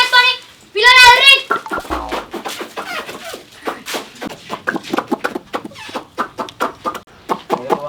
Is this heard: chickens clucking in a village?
yes